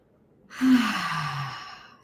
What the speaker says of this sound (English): Taking a long, deep exhale.